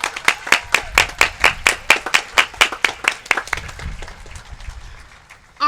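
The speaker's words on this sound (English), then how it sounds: "Please join me in another round of applause for these dedicated educators." Applause for teachers at a Teachers of the Year ceremony, heard as a sharp, regular run of single claps, close and evenly spaced, that grows fainter and sparser before fading out.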